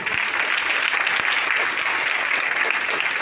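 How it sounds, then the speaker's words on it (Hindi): Loud, steady applause from an audience at a speech event, a dense wash of clapping hands filling the whole stretch without pause. "जोरदार तालियां होनी चाहिए।"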